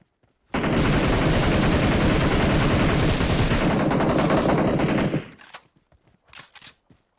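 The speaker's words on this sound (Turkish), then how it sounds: "En soldakini vuruyorum Vur vur vur vur vur" Loud sustained automatic gunfire in the video game PUBG Mobile, a dense rapid burst lasting several seconds before cutting off, followed by a few faint clicks and thuds.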